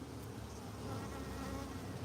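Honey bees buzz steadily around an open hive, a dense, continuous drone heard close by and alone, with no talk over it.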